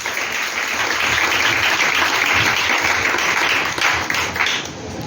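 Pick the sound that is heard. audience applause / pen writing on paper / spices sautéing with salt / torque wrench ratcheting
audience applause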